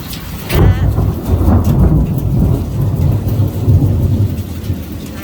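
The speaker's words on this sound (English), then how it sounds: "Now you can hear the hail coming down." Hail coming down during a thunderstorm, loud dense pattering and drumming on surfaces with rumbling thunder underneath, continuous throughout.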